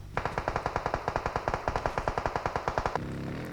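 Automatic weapon fire in PUBG Mobile, a fast, evenly spaced burst of about two dozen loud, close shots, then a brief fading echo.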